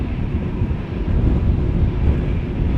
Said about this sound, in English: There's another airplane coming this way.